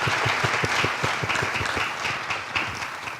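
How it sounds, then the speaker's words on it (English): Audience applause for panelists closing a financial literacy forum session, a dense, steady burst of many hands clapping at close range, rolling for a few seconds without pause. "Please give a round of applause to our panelists"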